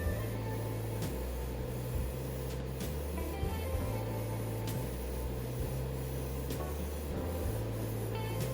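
Airbrush spraying green light coats onto a Hasegawa Jaguar XJ-S scale model body in Tom Walkinshaw Racing livery, a steady hiss over a repeating compressor hum that pulses on and off, with occasional sharp clicks.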